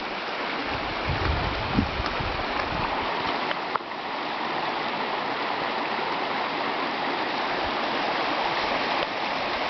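Chemainus River running low over exposed rock on Vancouver Island, a steady broadband rush of flowing creek water close by, continuous and even throughout with a faint brief knock near the middle.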